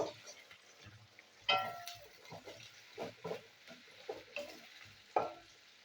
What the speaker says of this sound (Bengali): পেঁয়াজের কুচি দিয়ে দিলাম, একটু ভেজে নেবো